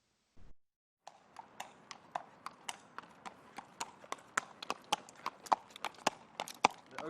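Horse hooves clip-clop in a brisk, even rhythm on a hard surface. The hoofbeats grow steadily louder and come through crisply against a quiet background, after a short thump at the very start.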